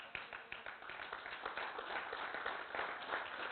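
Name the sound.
congregation applauding in church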